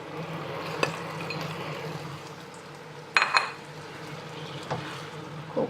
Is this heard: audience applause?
no